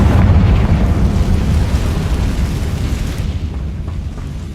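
Confringo fire spell from Hogwarts Legacy going off as a sustained, loud, rumbling blast that fills the whole moment and slowly fades toward the end, with no voices.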